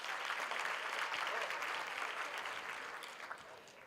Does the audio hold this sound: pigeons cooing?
no